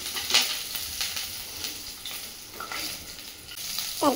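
Food fries in a pan over low gas while aloo chokha is cooked, giving a soft continuous sizzle with occasional scraping stir sounds and no talking.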